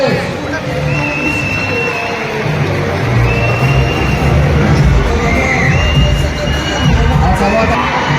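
A large crowd claps and cheers at a police station gathering, a dense continuous roar of applause with shouts mixed in, loud and steady for the whole stretch.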